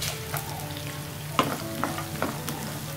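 Cashews sizzle in a hot oil tempering with chopped onion and curry leaves for semolina upma. A steady close frying hiss runs throughout, broken by a few sharp stirring scrapes and taps, with no voices.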